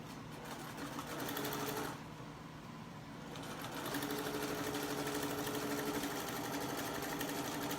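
A sewing machine stitches a sashing line across a quilted table runner, a steady close mechanical whirr that pauses briefly near two seconds and then resumes at a slightly louder, even pace with no talking.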